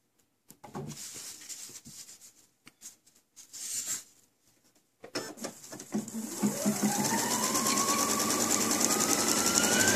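A sewing machine zigzag-stitching plastic for a bag dispenser: close handling taps and rustles lead to a steady, loud mechanical whir that runs continuously through the second half.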